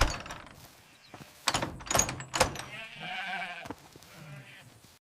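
A farmer shuts a gate behind the sheep in their enclosure: several sharp wooden knocks and clunks come first, then a drawn-out sheep bleat close by.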